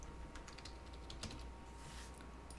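Someone types a password on a computer keyboard: a quiet run of scattered keystroke clicks at an uneven pace, close but faint over a low steady hum.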